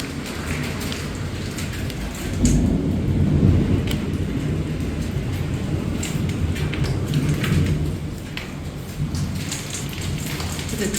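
Heavy rain pours steadily during a severe thunderstorm with hail and wind in Havre, Montana, with a low rumble of thunder swelling midway and continuous downpour throughout, no talk.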